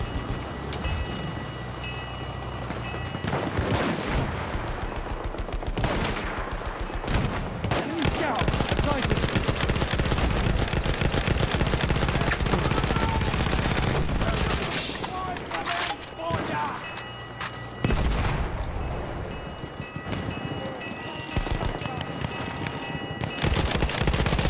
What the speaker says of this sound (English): Wait for the enemy artillery barrage to stop firing.